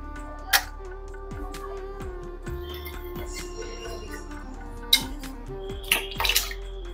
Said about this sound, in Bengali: একটু ধুয়ে নিলাম যাতে কষটা চলে যায়।